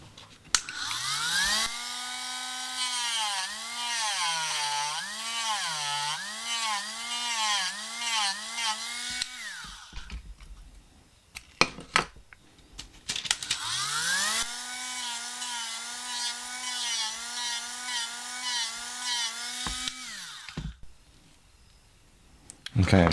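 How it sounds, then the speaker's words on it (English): A Dremel rotary tool grinds and shapes a handmade fishing lure in a workshop, whining in two long bursts with pitch rising and dipping under load, separated by a quiet pause and clicks. "is take a Dremel tool."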